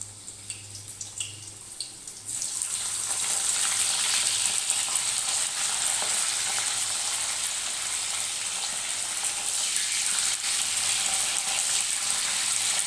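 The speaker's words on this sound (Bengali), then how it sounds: "প্রথমে আমি যে সবজিটা ভাজবো সেটা হচ্ছে করলা" Bitter gourd pieces dropping into hot oil, a quieter opening giving way to a sudden loud, steady hiss and crackle of frying that holds close and strong to the end.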